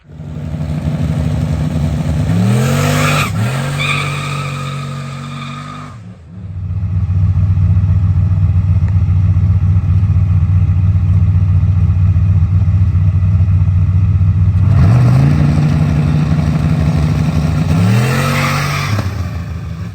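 A street race car launches hard at night, its engine revving and rising in pitch through quick gear changes before fading. A loud, rough idle or burnout roar holds for several seconds, then a second close launch screams away.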